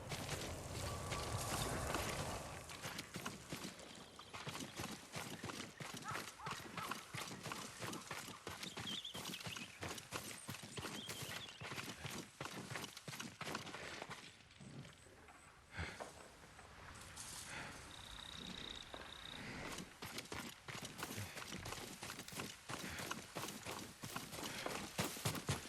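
A horse's hooves clip-clop steadily at a brisk pace for the whole stretch, close and fairly even, with a faint voice now and then and no clear speech.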